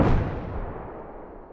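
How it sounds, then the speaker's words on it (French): A grenade thrown into a narrow hole three metres deep in Iraq bursts with one loud, close blast that decays into a fading rumble over a second and a half. "Un des soldats jette une grenade."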